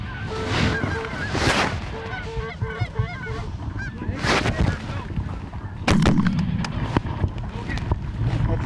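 Geese honk repeatedly while shotgun blasts ring out on a goose hunt along the Manitoba flyway, loud cracks standing out over the calling birds, with people talking in the blind.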